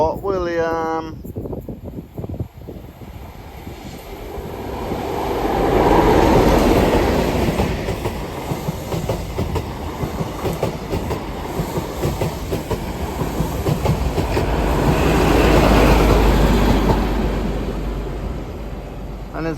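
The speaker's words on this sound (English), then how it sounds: "Next service pass through is the Midland Pullman from Shenfield to Fort William." A Midland Pullman train running from Shenfield to Fort William roars through Hett Mill level crossing, a loud close pass of rolling wagons with rhythmic clickety-clack that swells, eases and swells again, preceded by a brief rising horn-like tone at the start.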